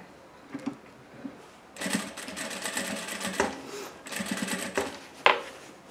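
A sewing machine stitches fabric for a kitchen and bathroom paper towel holder, running in two rapid buzzing bursts of a couple of seconds each, preceded by a few faint clicks, with brief handling noises between.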